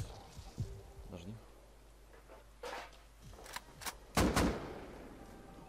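Gunfire in the survival video game Rust: a few sharp shots and short bursts ring out over a steady background, loudest in a dense cluster near the end.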